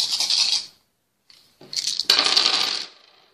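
Dice rattle in a container, pause, then rattle again and tumble onto a hard surface, bright clattering bursts at close range.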